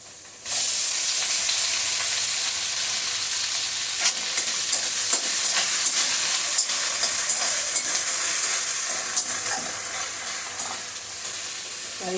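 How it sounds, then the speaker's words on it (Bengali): Grated coconut and rice fry together in a pan, a loud steady sizzle with the scrape and clatter of stirring breaking through at irregular moments, close and continuous, no talking. "চালটা দিয়ে একটু নাড়াচাড়া করার পর দিয়ে দিচ্ছি নারকেল কুড়াটা"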